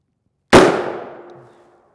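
A single loud rifle shot from an M855A1 load striking an armor plate, a sharp close blast with a ringing decay trailing off over about a second, alone with no talk.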